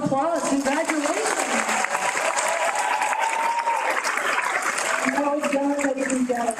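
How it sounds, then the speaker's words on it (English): An audience at an adult education graduation ceremony gives steady applause while a voice speaks over the clapping. "Can we give them another round of applause?"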